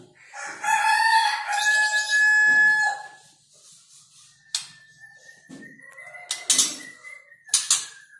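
Young birds give bursts of clucking, chirping calls close by, a dense loud stretch early, then sparser sharp calls separated by quiet gaps.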